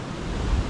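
Strong surf breaks on a beach just after heavy rain, a loud continuous rush of churning water and wind with no pauses over a short stretch.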